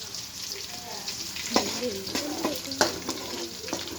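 Green chillies and curry leaves fry in hot oil for homemade upma, a close steady sizzle broken by a few sharp stirring clicks.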